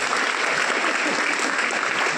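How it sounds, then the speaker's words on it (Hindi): Loud, dense applause from a crowd at a student fresher party, welcoming the ceremonial lighting of a lamp; a steady wash of many hands clapping without a break for about two seconds. "आप सभी जोरदार तालियों से स्वागत कीजिए एक भगवान का।"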